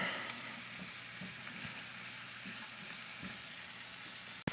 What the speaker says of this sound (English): we're only going to let this saute for a couple minutes because we don't want to burn the garlic